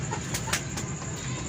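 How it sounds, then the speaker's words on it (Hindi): Aseel fighting roosters and hens kept in rooftop cages, soft clucking and low fowl murmurs close by, with a few brief sharp noises breaking through a steady background hiss. "ये लड़ाकू मुर्गा है जी फारूक साहब का।"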